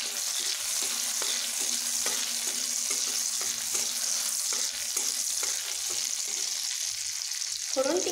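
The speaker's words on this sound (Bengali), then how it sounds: "ফোড়নটিকে আমি ভাজবো" Whole spices for a tempering fry in hot oil in a pan with potatoes and bottle gourd, a steady crackling sizzle under repeated soft scraping taps of a spoon stirring, with a clatter near the end.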